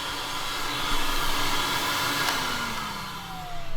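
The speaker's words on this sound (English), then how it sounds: "I could even run the vacuum with this" A powerful household vacuum cleaner runs steadily on a homestead in North Idaho, powered by a portable power source drawing just under 600 watts, giving a loud continuous whine and roar with a slight pitch drift near the end.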